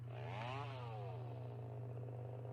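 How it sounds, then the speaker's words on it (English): Chainsaw from a horror RPG game cutting through a door, a loud continuous motor whine that rises in pitch then settles into a steady buzzing drone over a constant low hum, no talking. "Will the chainsaw go through the door, though?"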